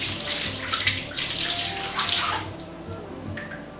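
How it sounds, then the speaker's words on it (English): Water from the tap pours steadily into a plugged bathtub holding white vinegar, a loud, close, continuous splashing rush that fluctuates slightly as it fills. "And then I'm going to turn on the water so that it's not too hot, but it's warm enough"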